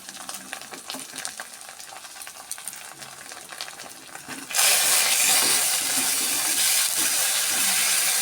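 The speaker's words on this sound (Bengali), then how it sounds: "পরিমাণ মতো নুন দিয়ে আমি কষিয়ে নিই।" Chili and turmeric powder sauté in a hot pan, with light sizzling and stirring that jumps midway to a loud, steady hissing fry as more goes into the oil, close and without talk.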